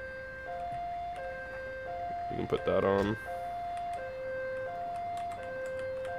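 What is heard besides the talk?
custom ambulance siren in a video game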